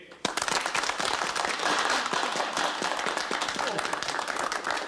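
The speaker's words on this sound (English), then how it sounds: "Applause for the Russian visitor." A small group of men applauds a Russian visitor in a 1973 British sitcom scene, a sudden burst of dense, steady clapping that continues loud and even throughout.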